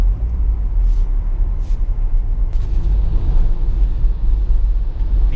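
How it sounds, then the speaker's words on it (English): Renault Safrane on the move, heard from inside as a loud steady low rumble of engine and road noise, smooth and unbroken, no voices. "The engine on this car is lovely."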